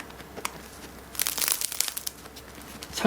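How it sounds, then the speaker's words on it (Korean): A crisp baguette crust pressed lightly: a short burst of crisp crunching close to the microphone, lasting under a second, with a few quiet clicks before and after. "살짝만 눌러도 이렇게 바삭바삭한 그런 소리가 나요."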